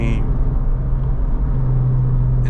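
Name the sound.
Honda Civic Type R FL5 engine while driving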